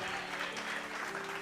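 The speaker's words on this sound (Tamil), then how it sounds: "கைத்தட்டுக்கு கொடுத்துரு" Audience applause at a Tamil sermon, a steady dense patter of many hands clapping continuously from start to end under a faint background hum.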